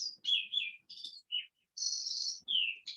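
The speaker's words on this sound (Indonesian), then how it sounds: "Ibu ada suara burung, Bu. Iya, itu burung piaraan Ibu Rika ya" A pet Bali myna (jalak Bali) gives a string of short, bright chirps and whistles, close and clear, alone against a quiet background.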